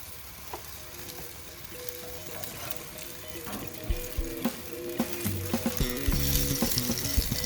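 Chicken wings sizzling and crisping on a gas grill, a steady close frying hiss with scattered pops and crackles that grows a little louder and busier toward the end.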